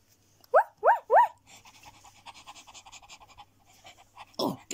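A pup indoors in the upstairs bedroom of a house gives three quick, loud whining yelps close by, then pants in a soft, steady, rapid rhythm, ending with one more short burst.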